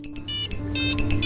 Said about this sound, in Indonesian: Secara kebetulan tiba-tiba ponsel kapten pun berdering.